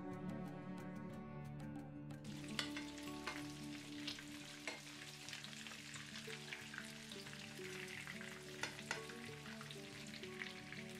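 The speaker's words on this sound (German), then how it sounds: "dann werden sie in reichlich Öl frittiert" Breaded Turkish köfte meatballs, coated in flour and egg, deep-frying in plenty of oil, giving a continuous bubbling sizzle with scattered crackles, close and steady throughout without speech.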